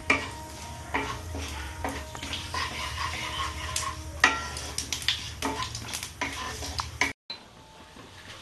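Whole cumin seeds crackle and sizzle in a spoonful of hot oil in a pan, close and steady with stirring scrapes, ending abruptly before a brief quieter stretch.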